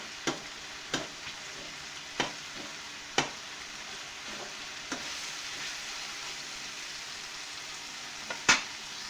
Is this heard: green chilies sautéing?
yes